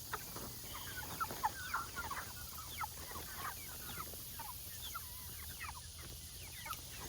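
A flock of around 100 meat chickens clucking, with repeated soft clucks and murmurs spread across the group at moderate distance and low volume.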